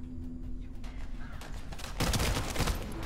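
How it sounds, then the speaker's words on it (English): Automatic weapon fire in the sci-fi shooter The First Descendant, a rapid rattling burst that swells louder and denser in the second half, with muffled background game noise before it. "the recoil on this gun is insane"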